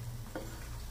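Doi vada frying in oil on a low gas flame, a soft continuous sizzle with a single faint tick near the start, quiet and close with no talking.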